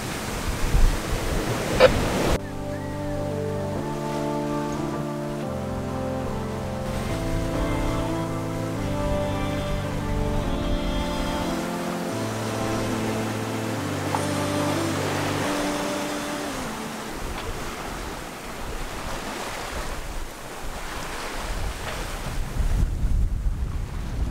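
Wind roars and waves rush around a sailing boat in a strong blow, a steady broadband rumble with gusty swells, partly under a run of music tones in the middle.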